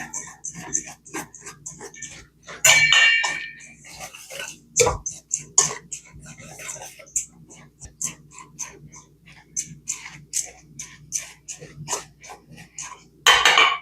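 Dry oatmeal bar ingredients, including baking soda and salt, are stirred together in a bowl, giving irregular close clinks, taps and scrapes of a utensil against the bowl, with a few louder knocks.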